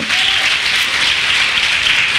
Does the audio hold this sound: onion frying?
no